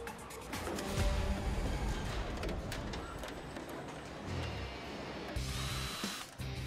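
A power drill works on Jaguar XJ car doors at a car plant, loud whirring bursts under busy factory clatter with a few short pauses.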